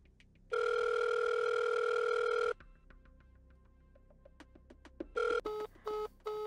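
A telephone plays a steady dial tone for about two seconds, followed by a run of quick soft clicks and then several short, loud dialing tones in a rapid rhythm, heard alone with no talking.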